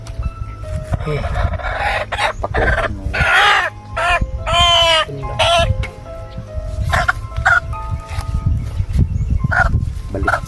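Chickens clucking and a rooster crowing nearby, mixed with people talking and background farmyard noise.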